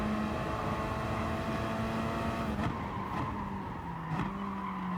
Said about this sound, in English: As we see the Porsche behind us spinning and into the barrier he goes